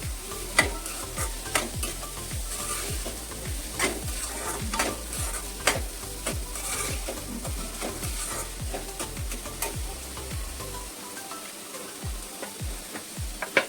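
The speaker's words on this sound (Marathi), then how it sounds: "थोडंसं पहिला परतून घेते." Onion sautés with a pinch of salt in a pan for pav bhaji, a constant close sizzle punctuated by regular rhythmic scrapes and taps of a spatula, repeated steadily throughout.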